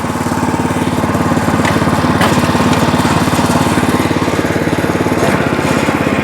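WEIMA WMX5 walk-behind rotary tiller with its engine running in second gear, a loud steady close chugging drone with fast regular pulsing throughout.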